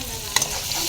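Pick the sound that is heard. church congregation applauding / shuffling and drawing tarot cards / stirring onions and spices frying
stirring onions and spices frying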